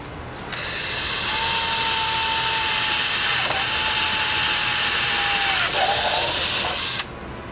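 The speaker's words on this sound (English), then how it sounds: "So he's going to do his first pre-drill now." A power drill pre-drills a hole for a front lip on a 2015–2020 BMW F80 M3 / F82 M4, giving a loud, steady motor whine for about six seconds with short pauses and pitch dips midway and near the end.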